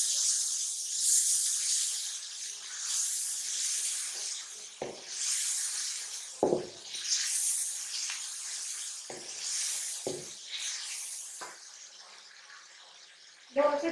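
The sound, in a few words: peas sizzling while roasting in masala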